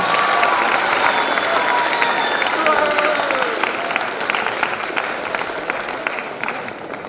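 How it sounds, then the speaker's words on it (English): An audience at a high school event in a large hall claps loudly and steadily, a dense wash of applause that slowly tapers toward the end. "let's have one more round of applause for the Marathon Coast Guard, Coast Guard, and the NHS Band."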